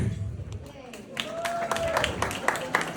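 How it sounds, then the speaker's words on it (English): Wedding guests at a speeches reception break into clapping that builds from scattered slaps into steadier applause, while a voice speaks over the room. "can we please have a round of applause for Q?"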